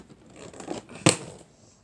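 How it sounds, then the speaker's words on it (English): Adult scissors cutting open the packaging of a Nerf gun: a few soft snips followed by one sharp, louder cut near the end, close by with no talking. "I'm gonna cut this sucker open."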